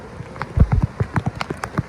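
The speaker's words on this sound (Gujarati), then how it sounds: "વરસાદ એ ચાલુ જ છે" Rain pours down in a village, heard as close, uneven splashes and drops hitting surfaces in quick succession, with a thicker burst of impacts near the middle.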